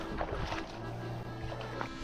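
A motorboat with a 40 hp Mercury outboard engine on a reservoir, used for towing water skiers, gives a steady droning hum with splashy water wash, moderately distant and continuous.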